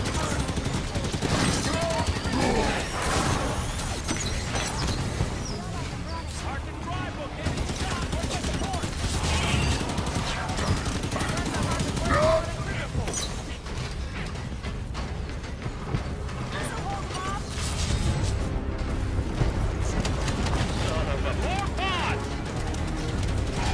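Heavy weapon fire from Halo 5 fuel rod guns in a chaotic firefight near a council chamber, dense bursts and blasts layered over music and effects, with voices talking throughout.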